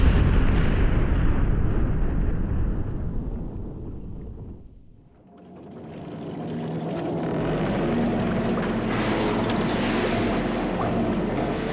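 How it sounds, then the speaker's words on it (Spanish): Battleship Maine exploding: a dense, loud roaring rumble that fades to near silence midway, then swells into a sustained deep roar with crackling debris, no voices. "el acorazado de segunda Maine explota misteriosamente"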